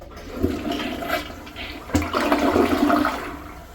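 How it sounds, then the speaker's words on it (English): A 3rd generation Gerber Maxwell toilet gives a press-and-release flush: a sharp handle clunk, then a rushing swirl of water that surges again and keeps going, loud and close with no talk. "Let's first look at a press and release flush."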